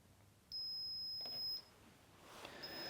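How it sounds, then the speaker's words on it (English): A Sinclair C5 electric vehicle's first-stage over-temperature alarm gives one sharp, high electronic beep lasting about a second against near silence. A fainter tone returns briefly near the end. "So we've activated the first stage alarm on the C5, and we've got an audible indication to show us that the temperature is pretty high."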